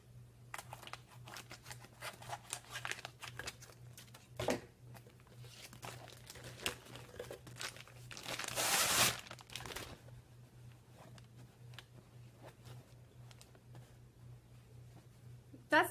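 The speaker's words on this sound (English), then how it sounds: "Let me get a pair of scissors and let's open it up." A vacuum-packed plastic bag holding a pillow is cut open with scissors, giving scattered crinkles, snips and tearing rustles up close, with a louder burst of plastic crackling midway and a steady low hum underneath.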